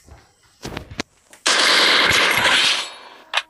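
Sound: MP40 submachine gun fire in a video game

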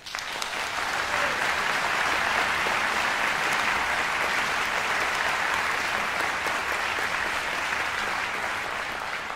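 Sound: audience applause at concert

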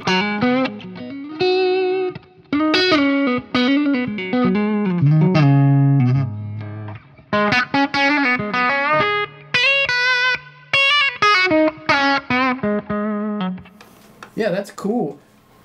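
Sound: electric guitar with humbuckers played through effects

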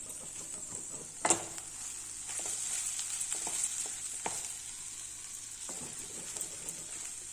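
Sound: stirring rice into cooked black-eyed pea vegetable masala

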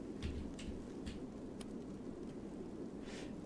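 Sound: rain and thunder in the video game It Lurks Below

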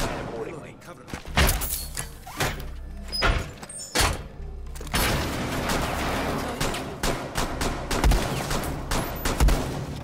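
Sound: gunfire through a wall in Rainbow Six Siege video game

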